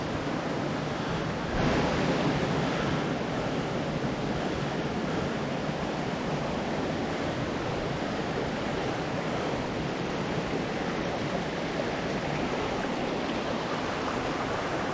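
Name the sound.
waterfall rushing water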